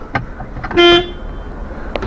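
A single short Iveco Stralis 460 truck horn honk, loud and close, heard from the cab, with faint clicks before and after.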